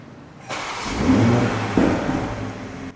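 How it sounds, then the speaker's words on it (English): A tuned 2020 Toyota Supra cranks and catches with a BMW M4-style startup sound, roaring up to a loud rev that settles into a rumbling idle, with a second sharp rev partway through. "So you put the M4 startup roar in my Supra."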